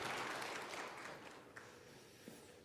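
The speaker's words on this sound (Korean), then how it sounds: "주님께 영광의 박수 올려드리겠습니다." A congregation at a Korean Sunday church service gives faint, distant applause that tapers off over a couple of seconds.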